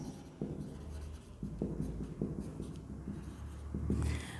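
Pen writing on paper during an accounting lesson, a steady close scratching with small strokes and taps over a low room hum, without speech.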